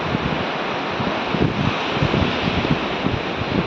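Sea waves wash continuously along the shore at Dahanu, a broad steady roar mixed with wind buffeting the microphone, with no talking.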